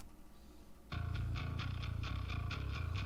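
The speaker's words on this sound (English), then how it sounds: "if we combine the SBT and the Marshall together," Bass guitar played through a combined Ampeg SVT and Marshall amp simulation, a steady run of punchy, evenly spaced notes with bright pick attack, loud and alone after a brief quiet lead-in.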